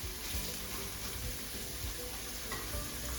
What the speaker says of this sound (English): I'm gonna put that down in the skillet first.